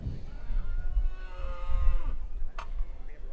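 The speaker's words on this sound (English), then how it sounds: "So these are just yearling heifers." Yearling heifers in a cattle show ring give a low, drawn-out moo that lasts a couple of seconds. It sits over ambient hall noise, and a brief sharp click follows near the end.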